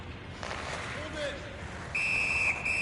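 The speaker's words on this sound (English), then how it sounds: "Puck covered, whistle blown." A referee's whistle in the NHL 18 hockey video game, a sustained shrill tone starting partway through and held for about a second, briefly cutting out and resuming, over steady arena crowd noise and commentary.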